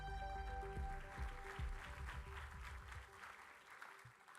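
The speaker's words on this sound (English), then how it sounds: "Please give him a round of applause." An auditorium audience at the International Astronautical Congress applauds a newly introduced session moderator, a soft, distant wash of many hands clapping that gradually fades.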